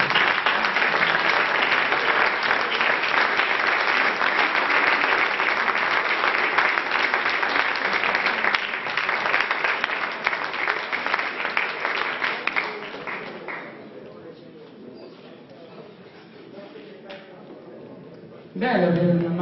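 Audience at a poetry award ceremony applauds in a loud, dense burst of clapping that thins out and fades, then rises briefly again at the very end.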